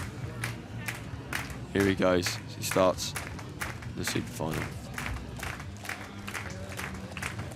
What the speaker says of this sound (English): His home crowd's going wild.